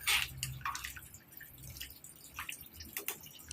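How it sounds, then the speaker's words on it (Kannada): Water poured into washed, soaked rice with capsicum and other ingredients for capsicum pulao, heard as close, uneven splashing and dripping that runs throughout without speech. "ಎಷ್ಟು ಬೇಕೋ ಅಷ್ಟು ನೀರನ್ನು ಹಾಕಿ"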